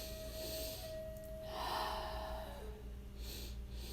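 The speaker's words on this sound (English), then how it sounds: "I'm breathing into my belly, to my chest, and all the way up, and then letting go." A slow, deep breath is drawn in through the belly and chest during a Wim Hof Method breathing session, then gently released, close and quiet with no talking.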